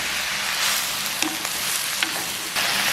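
Tomatoes and chillies sizzle loudly in a pan for squid curry, a dense continuous frying hiss with a few soft stirring knocks, close and steady with no talking.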